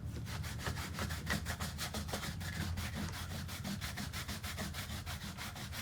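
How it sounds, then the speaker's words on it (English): Close, rhythmic back-and-forth scrubbing of a dirty surface with a brush or pad, rapid even strokes repeating steadily without pause and no voices. "Now I think we gotta scrub it in."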